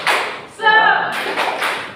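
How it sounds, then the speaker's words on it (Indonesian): An audience claps a rhythmic spirit clap, a quick burst of sharp claps with a chanted voice mixed in, close and fairly loud. "Tepuk semangat."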